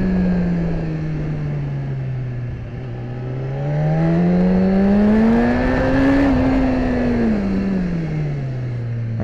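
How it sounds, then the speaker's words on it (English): A BMW S1000RR sport motorcycle engine drones loudly as the bike drags through gravel on a backroad, its pitch dipping, then rising and falling again with throttle changes. "But I can drag through here, through gravel, and it keeps the bike more upright"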